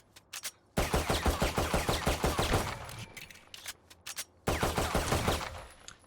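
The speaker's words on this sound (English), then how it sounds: "you can shoot through these to make them break quicker" Rapid bursts of automatic gunfire from Valorant, fired through a Sage ice wall to break it faster, loud and dense in two long volleys with a brief lull between them.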